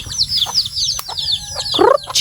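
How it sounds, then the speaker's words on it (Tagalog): Chickens calling in a farmyard, with a run of quick high chirps and a louder cluck near the end, close by and fairly loud. "Yung manok namin, guys."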